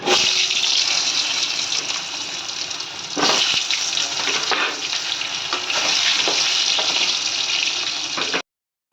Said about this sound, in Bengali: তেল গরম হয়ে গেছে। আর এখানে আছে আলুটার মধ্যে আমি অল্প নুন আর হলুদ মাখিয়ে নিয়েছি। এবার এটাকে আমি লাল করে ভাজবো।